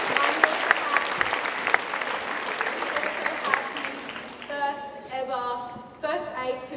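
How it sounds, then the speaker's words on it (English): Applause for a school's open netball team at an assembly, a dense wash of clapping from a large gathering that fades out partway, with talking taking over for the rest. "so a round of applause to them"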